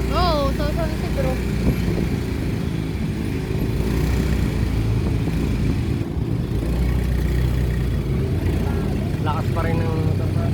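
A motorcycle engine runs steadily and loudly throughout, a continuous close rumble with voices talking over it.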